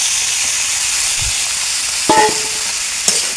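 Green beans fry in a pan with turmeric and salt, sizzling in a steady, loud hiss, with a few sharp clinks and a stirring scrape partway through and no talk.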